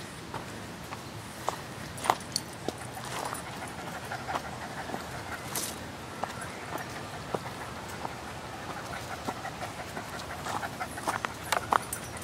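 A tired dog pants while walking along a trail, the breathing soft and fairly distant, with scattered light footsteps and crackles over a steady outdoor hiss.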